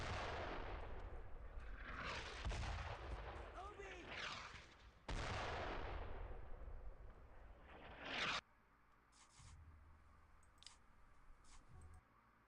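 Mortar shells land in a World War II video game, loud booming blasts and rumbling explosions in bursts, then the fire drops to quieter distant thuds and clicks.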